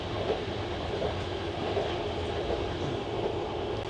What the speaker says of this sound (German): Und dieser Zug schaukelt unglaublich